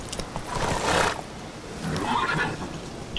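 A horse neighs twice in The Witcher 3 game, loud and close whinnies around the first second and again near the end, with no talk over them.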